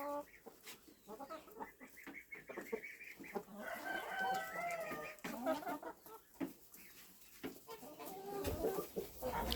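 A cluster of older chicks peeps and cheeps continuously while pecking at each other, with occasional clucks and scuffling close by; a voice speaks briefly.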